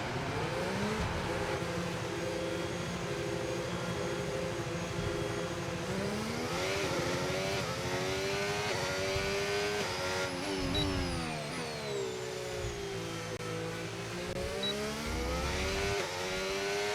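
Formula 1 car engine in the racing game F1 25 at Budapest, a continuous high-pitched whine rising and falling through gear shifts as the car laps steadily, with no talk.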